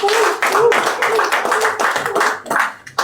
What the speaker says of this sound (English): Please, let's all give him a round of applause.